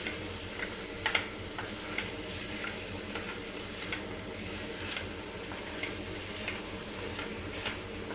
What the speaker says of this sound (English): and stir the arbi.